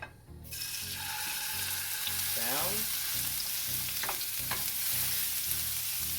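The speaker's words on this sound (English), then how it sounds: "It's streaking around, which means it's hot. So carefully lay your steak down." A steak searing in hot neutral oil in a pan, heard as a loud, continuous close sizzle that surges as the meat goes in, with a few clinks and scrapes on top.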